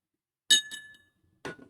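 Glass objects clink together in a few sharp, bright taps, two close strikes followed by another after a short pause, fairly near and otherwise quiet.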